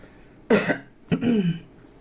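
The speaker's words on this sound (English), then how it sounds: "I'm going to cough" Two separate throaty coughs from a person speaking on a commentary stream, the first sharp and short, the second longer and rougher, close up against a quiet background hum.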